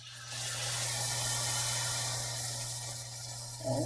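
Beans with their reserved liquid poured into a stew pot, a steady close splashing pour that runs for a few seconds over a low background hum, ending with a brief knock.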